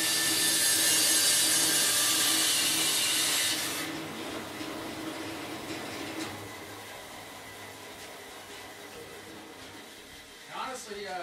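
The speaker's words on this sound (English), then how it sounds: "we'll whack this off on the bandsaw, see how straight of a line I can get there" Bandsaw cutting through wood for a guitar body: a loud, steady rasping cut for about four seconds, then a quieter whirring rundown with a brief voice near the end.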